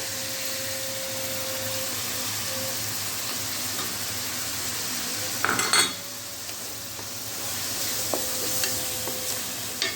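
Onions, tomatoes and spices fry in a pan for stuffed bitter gourd keema, a steady soft sizzle with a brief clatter of a spoon stirring near the middle and light scraping toward the end.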